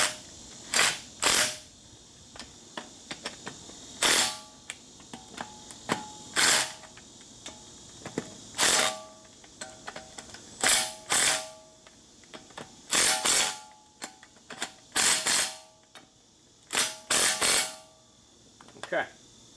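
A ratchet runs down the hub bearing bolts on a Nissan front hub, sounding as repeated sharp, close clicking bursts separated by short pauses.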